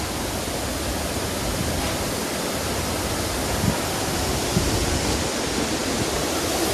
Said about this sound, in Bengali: জোনা ফলসের কাছে চলে এসেছি, এখানে কিন্তু জলটা ছিট করছে।